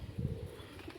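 Pigeons perched at a farm give a faint, low cooing murmur, soft and somewhat distant, in a short burst with no voices.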